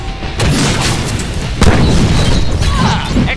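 Grenade blasts in the Deadpool video game, a heavy booming explosion near 0.4 s and a second sharper burst at about 1.6 s, with a loud rumbling roar sustained between and after them.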